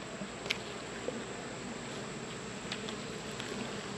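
Faint, steady low buzzing of honeybees in a hive, a soft continuous drone with occasional brief louder passes, no voices.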